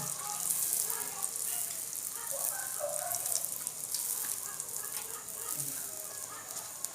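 Puris deep-frying in hot oil while oil is ladled over them, a steady crackling sizzle that stays fairly quiet with occasional bubbling pops and no talk.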